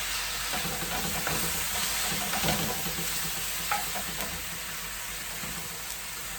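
Green vegetables stir-frying in a pan for a Jamaican-style chicken and noodle stir fry, a steady loud sizzle with scattered stirring scrapes and clatter throughout, no voices.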